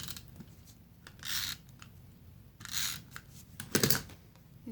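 Scissors cutting white cardstock to size for a card's inside, three separate crisp snipping strokes spaced a second or so apart, close up and with no talking.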